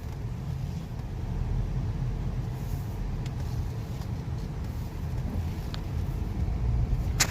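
A 2015 Honda Civic pulling away and driving, heard from inside as a steady low engine and road rumble with faint clicks and rattles, no talking.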